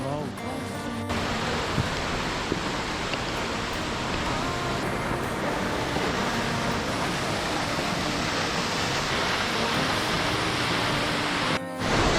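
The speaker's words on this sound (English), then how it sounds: "So this is Seven Sister Waterfall." Seven Sisters Waterfall beside the mountain road to Lachen in Sikkim pours with a loud, steady, broadband roar that fills the whole stretch. A brief voice is heard at the very start.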